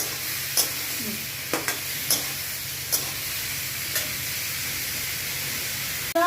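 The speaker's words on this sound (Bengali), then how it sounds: "পুরো লাল লাল করে আমি এটাকে ভেজে" Mixed vegetables seasoned with turmeric and salt fry in a pan. A steady close sizzle and hiss runs throughout, broken by several sharp scrapes and clicks as a spatula stirs them.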